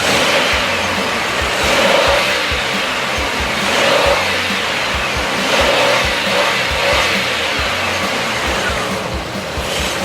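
A 2.5L car engine runs steadily and revs up in repeated surges during acceleration, with the roar loud and close and no talking.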